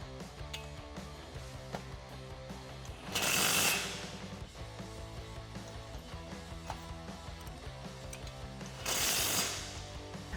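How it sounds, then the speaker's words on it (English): A 17mm ratchet wrench and socket tightens bolts on a 1987-2006 Jeep Wrangler rear bumper with tire carrier, with two bursts of quick clicking ratcheting standing out against a steady mechanical background. "So you can go ahead and tighten them up with a 17mm wrench and socket."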